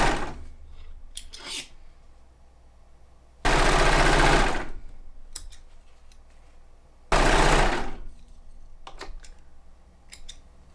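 A home sewing studio machine runs in two loud bursts of about a second each, separated by quieter clicks and handling noise, with no talking.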